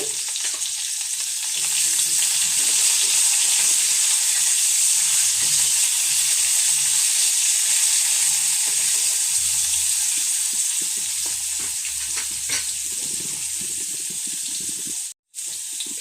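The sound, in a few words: drumstick pieces frying in oil in a wok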